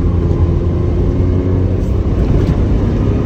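A Porsche 911 Targa G-Modell runs with steady, loud engine and exhaust rumble, dropping to second gear for a tight corner; the continuous drone stays close and unbroken with no talk.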